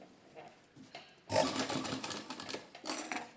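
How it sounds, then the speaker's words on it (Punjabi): Sewing machine stitching a pocket onto pants, a brief quiet stretch of handling followed by a close burst of fast mechanical running that lasts about two seconds. "ਜਿਹੜੀ ਆਪਾਂ ਪਹਿਲਾਂ ਸਲਾਈ ਲਾਈ ਹੈ ਉਹਦੇ ਉੱਪਰ ਆਪਾਂ ਸਲਾਈ ਲਾ ਲੈਣੀ ਹੈ"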